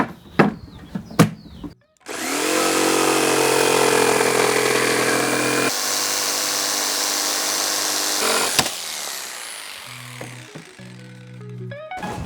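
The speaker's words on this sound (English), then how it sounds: "First up, starting small, jigsaw." A jigsaw runs off a 7.5-ton truck camper's off-grid power system: after a few short clicks it starts up loud and buzzing, holds a steady whine for several seconds, then cuts off, leaving faint handling noises.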